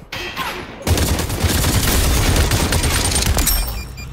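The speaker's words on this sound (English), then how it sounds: "Someone else is shooting at him" Gunfire in the VR battle royale game Population: One, a loud, dense burst of rapid shots that starts abruptly after a quiet moment and continues for about three seconds before tapering off.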